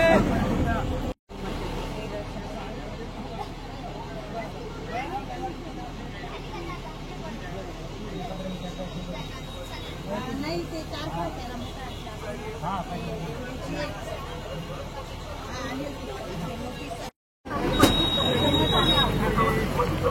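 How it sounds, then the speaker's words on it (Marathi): A crowded MSRTC state transport bus pulls out of Bhokardan bus stand, its engine a steady loud rumble mixed with road noise and a murmur of passenger chatter throughout, broken by two brief dropouts. "आपली बस आता भोकरदन बस स्टँड सोडत आहे."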